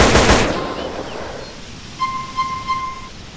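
Modded weapon fire in GTA San Andreas: a loud burst of gunfire at the start fades into echoing decay, followed by a few sharp ringing shots with metallic tones, no talking.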